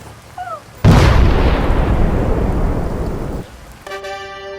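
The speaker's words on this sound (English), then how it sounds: "Grenade!" A grenade explosion bursts suddenly and loudly, then rumbles and decays over about two and a half seconds before cutting off, followed by a short tonal sound.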